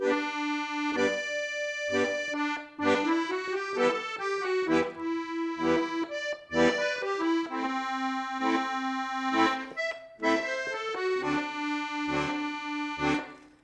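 A reedy melody from a song plays alone on an accordion, bright sustained notes moving up and down with short breaks between phrases, close and clear.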